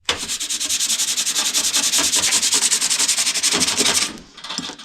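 Hand sanding on a rusted, galvanized 1957 Chevy car door, a fast, steady rhythmic rasp of close, loud back-and-forth strokes that stops abruptly near the end.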